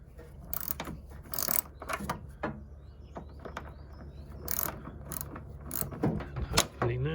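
A ratchet with a 10mm socket loosens the battery terminal on an MG TF, sounding as separate bursts of quick, close metallic clicking with short quiet gaps between them.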